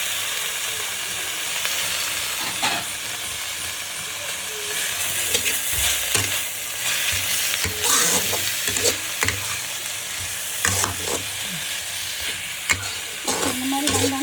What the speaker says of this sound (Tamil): கொஞ்ச நேரம் தான் தேங்காய் பூ போட்டு கிண்டணும்